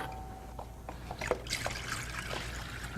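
Lime juice poured into a salad bowl for a West Indies salad, a light, brief trickle and dribble of liquid with a few small splashes, faint and close in a quiet kitchen.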